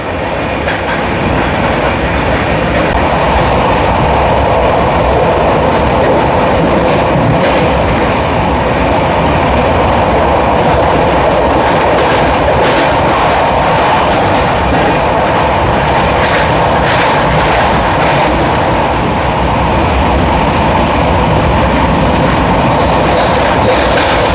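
Netravati Express train rolling along rails on the Mangalore to Vasco da Gama route, a loud continuous rumble with rhythmic wheel clatter and occasional squeal, steady throughout.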